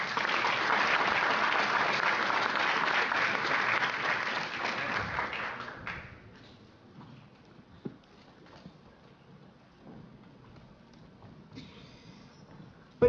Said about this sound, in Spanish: Fuerte aplauso para el doctor.